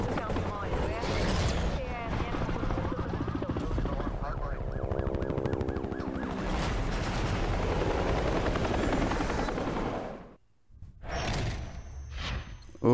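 A helicopter in the Need for Speed Hot Pursuit racing game thrums with a loud, steady rotor chop. It cuts out briefly near the end, then returns with scattered game effects.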